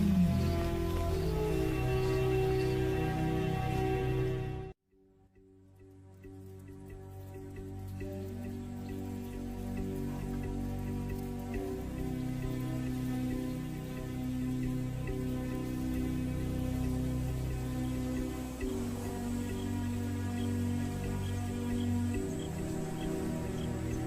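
Steady rain falls across a lion habitat, a soft even patter of drops with a brief lull before it resumes, continuing without any voices.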